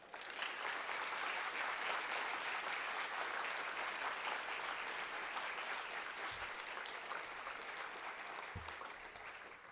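Sustained audience applause in a lecture hall at BYU welcoming Chinese Ambassador Cui, a steady wash of many hands clapping that holds evenly for nearly ten seconds before slowly tapering.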